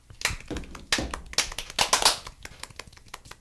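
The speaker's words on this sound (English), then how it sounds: "everybody, claps for Jonathan." A small group claps for Jonathan in short, uneven bursts of close hand claps, loose and irregular rather than steady applause.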